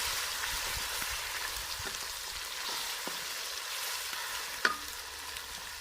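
Ginger and garlic sizzle steadily in hot oil while kaleji masala is cooked, a soft continuous frying hiss with faint stirring clicks and one sharp clink near the end, with no speech over it.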